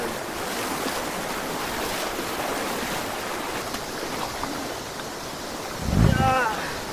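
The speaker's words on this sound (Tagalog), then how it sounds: "Medyo malakas din yung agos na tubig oh." A strong river current rushes steadily at close range, with a louder burst of splashing near the end of the clip.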